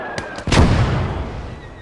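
Mortar fire in the WWII strategy game Gates of Hell: Red Star Rising: a couple of faint sharp reports, then one loud close blast whose deep rumble rolls on and slowly fades.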